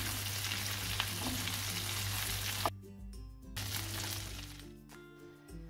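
Veal sweetbreads frying in salted butter while being basted give off a steady close sizzle with scattered crackles, breaking off abruptly midway before the frying hiss returns, with no voices.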